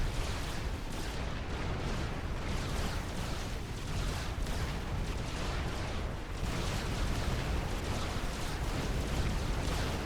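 Unit detonation explosions in the Supreme Commander 2 strategy game, a continuous dense rumble of overlapping blasts and booms with no clear gaps between them.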